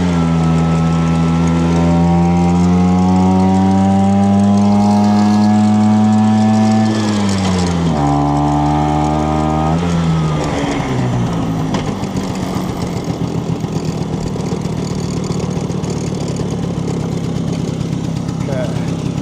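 A 1968 Vespa 150 Sprint scooter engine running steadily while riding, a loud close droning hum that rises in pitch with revving, drops abruptly at gear changes, then settles into a rougher putter.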